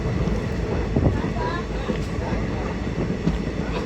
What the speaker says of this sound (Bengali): এই দেখুন বিশাল বড় ট্রেন, বিশাল লম্বা ট্রেন